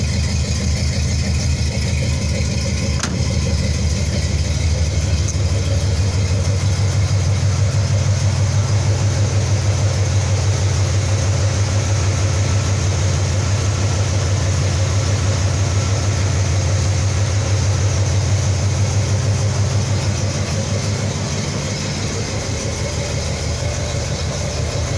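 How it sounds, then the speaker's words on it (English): A hot, worn 350 Buick V8 idles steadily with a deep, even low rumble through new exhaust work, running close and loud for the whole stretch with no talking. "That's really good for a hot, tired 350 Buick motor."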